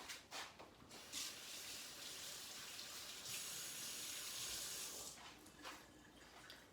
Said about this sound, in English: Let me wash my gloves off.